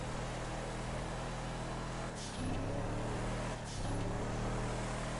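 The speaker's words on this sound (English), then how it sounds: "You can hear the turbo spooling." A turbocharged car engine drones steadily up close, with a rising turbo-spool whine as it builds speed and two brief dips where the throttle eases before climbing again.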